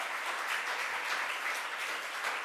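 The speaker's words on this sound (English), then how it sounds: "Let's give her another round of applause." Steady, fairly faint applause from an audience at a New York governor's press event, an even wash of clapping with no talk over it.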